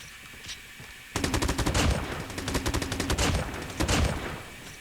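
Rapid automatic fire from a QQ9 submachine gun in a video game, a dense rattling burst of shots followed by a brief pause and a shorter second burst, loud and close.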